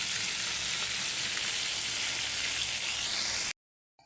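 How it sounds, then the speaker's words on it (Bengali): Pangas fish frying in a pan, producing a loud, steady, close crackling sizzle that stops abruptly before the end. "এই যে আমার পাঙ্গাস মাছগুলো খুব সুন্দরভাবে ভাজা হয়ে গেছে"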